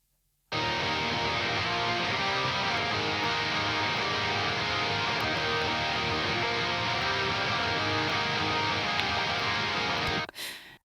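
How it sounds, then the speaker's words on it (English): Loud, dense wall of distorted electric guitars plays continuously, starting abruptly and cutting off near the end. "they sound like this with these big guitars coming in here"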